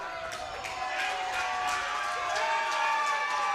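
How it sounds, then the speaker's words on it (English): Arena crowd at a wrestling event in the Bullet cheering and shouting after a suplex to the floor, a steady, dense roar of many voices with scattered whoops, loud and sustained throughout. "Listen to the crowd here at the Bullet come alive"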